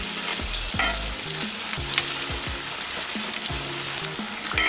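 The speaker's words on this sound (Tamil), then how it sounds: "சமோசா செய்யறதுக்காக எண்ணெய் நல்லா சூடாக இருக்கு." Samosas deep-frying in hot oil give a steady, close, crackling sizzle throughout, with bursts of bubbling and occasional clinks of a utensil against the pan.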